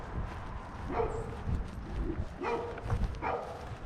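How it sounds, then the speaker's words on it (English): A dog barks a few times at a distance, short separated woofs over a steady outdoor background with no talking, on a walk near a waterfall. "I hear a dog."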